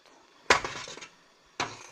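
A utensil stirring tapioca pearls in a saucepan of boiling water strikes the pan in two sharp metallic clinks about a second apart, each trailing into a soft scrape over a quiet background.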